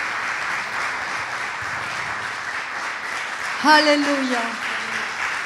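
Steady applause from a church congregation honoring God fills a Persian-language sermon, continuing evenly until the preacher's voice rises over it near the end.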